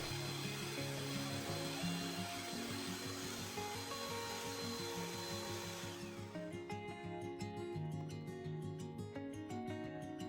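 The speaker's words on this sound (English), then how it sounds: "Add 150 ml whipped cream and continue to beat it at medium speed until you see creamy wave lines appear." An electric mixer beats whipped cream at medium speed for a tiramisu, a loud steady motor whir that continues throughout and drops slightly in brightness midway.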